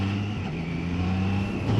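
A Triumph Trident 660 motorcycle's 660cc inline triple engine drones steadily and fairly loud on the road, holding a low, smooth tone with a slight rise in revs near the end.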